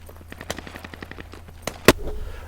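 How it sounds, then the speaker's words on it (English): Gunfire in the shooter Squad: a rapid string of sharp distant shots, then one loud close crack near the end with bullets snapping past, over a low battlefield hum. "while I've got bullets whizzing around my head"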